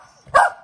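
A single short, sharp bark from a visiting dog, close and fairly loud against a quiet room.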